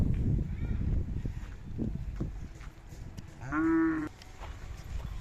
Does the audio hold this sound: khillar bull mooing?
yes